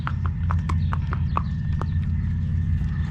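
A harness horse walking on a road in breeching, its hooves clip-clopping in a steady, close rhythm over a constant low rumble.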